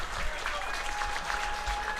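Steady applause from a crowd at an American Legion baseball game honoring the coaches, sustained clapping throughout at moderate distance with some voice-like tones mixed in.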